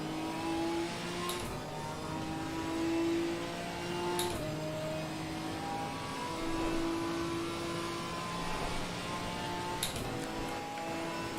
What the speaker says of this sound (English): BMW is arriving from behind.